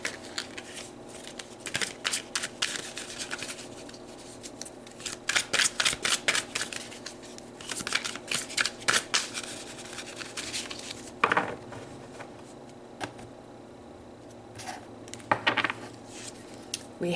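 A tarot deck shuffled and cards pulled, heard as rapid bursts of crisp riffling and snapping card edges, close up, alternating with brief pauses and a few single slaps of cards laid down.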